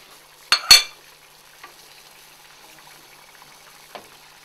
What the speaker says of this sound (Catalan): I ara ficarem les botifarres.